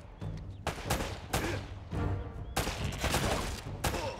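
Gunfire in the Uncharted video game as shots set off a trap, several loud bursts of rapid shooting with short gaps between them, close and dense, no talking.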